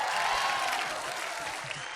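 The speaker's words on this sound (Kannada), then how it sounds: "ಜೋರಾಗಿ ಚಪ್ಪಾಳೆ ಬರಲಿ." Studio audience at a Kannada comedy show breaks into applause, a continuous bright hiss of clapping at moderate level filling the short moment.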